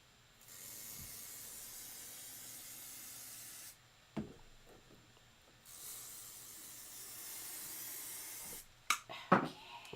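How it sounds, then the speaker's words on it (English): Two long hissing bursts of a spray can coat quilt fabric, each lasting a few seconds and separated by a pause, followed by a few brief clicks and rustles. "I'm going to give it another little shot of spray."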